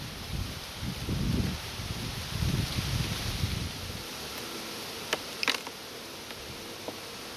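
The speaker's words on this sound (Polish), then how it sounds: "pszczoły sobie chodzą po tych ramkach" Honey bees crawl over frames lifted from a hive during autumn feeding, giving a steady soft buzzing hum with faint rustling, then a few brief sharp buzzes from bees flying close by.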